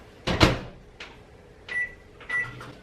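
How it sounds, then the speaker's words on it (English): A microwave oven's door clunks open, the pizza goes in, and the door shuts, followed by two beeps from the keypad, all close and crisp in a quiet room. "It's time to stick this sucker in the microwave for about 2 minutes."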